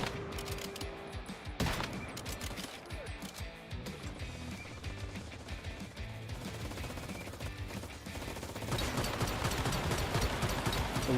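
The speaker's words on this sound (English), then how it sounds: "I'm just gonna snipe this guy from a distance." Gunfire in the video game Once Human crackles in dense, rapid volleys under a continuous busy game soundscape. The shots are steady and mid-distance and grow louder and thicker near the end.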